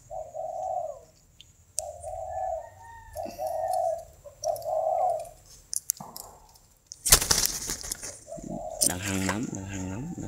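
A caged spotted dove coos in repeated low, soft phrases at close range, then a burst of loud rustling and clattering, with someone talking nearby.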